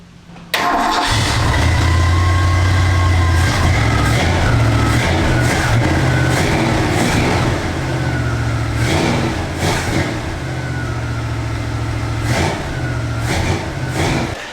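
A 1969 Ford Mustang V8 with its choke working and throttle cable too short starts up, then idles loudly and steadily close by, with a few rev blips and no talking.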